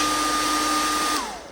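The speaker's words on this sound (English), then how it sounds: "I take my blow dryer" A blow dryer runs for warming a thawed feeder rat: a loud, steady whooshing roar with a constant motor whine, close by, then the pitch drops and the sound fades as it is switched off.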